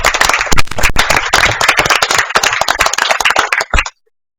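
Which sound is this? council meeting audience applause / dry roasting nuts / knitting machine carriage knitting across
council meeting audience applause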